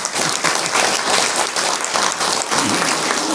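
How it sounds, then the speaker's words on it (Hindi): A large audience claps continuously in warm, dense applause for a revered baba at a spoken gathering, loud and steady throughout. "तो ऐसे बाबा के लिए एक बार ताली तो बजा।"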